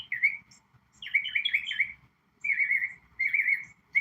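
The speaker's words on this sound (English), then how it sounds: "I'm sitting under a tree with these super loud birds." Songbirds chirp loudly from a tree overhead outdoors, giving several bursts of bright, warbling calls separated by short pauses, close to the listener and clear.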